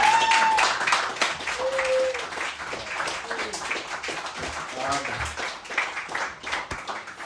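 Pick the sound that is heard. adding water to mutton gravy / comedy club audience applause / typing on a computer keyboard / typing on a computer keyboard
comedy club audience applause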